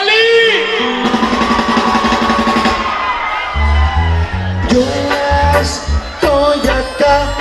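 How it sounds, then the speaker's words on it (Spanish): A concert in San Isidro, Rancho Yeguas, Tepexi de Rodríguez: a loud, drawn-out singer's shout over the band and a cheering, whooping crowd, with strong musical backing throughout. "aviéntese un grito que se oiga hasta Estados Unidos"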